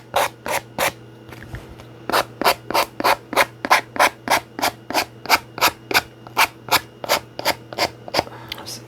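Hand sanding a wooden writing board, a steady back-and-forth rasp of roughly two dozen even strokes close by, with a faint low hum underneath and no talk.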